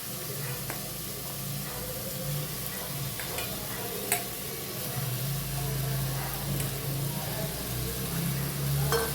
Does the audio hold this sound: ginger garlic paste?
yes